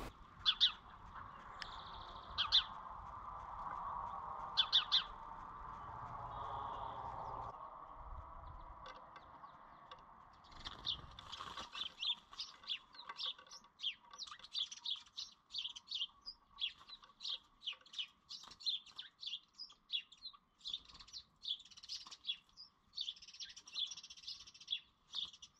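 Chipping sparrows give rapid high chips and trills outdoors. A few sharp calls sound over a low hum early on, then a long run of quick, fairly faint chirps continues with no talking.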